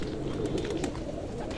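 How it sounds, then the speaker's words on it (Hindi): Pigeons cooing inside a large breeding loft, a soft continuous murmur of overlapping coos heard at moderate distance with no talk over it. "देखिए कबूतर"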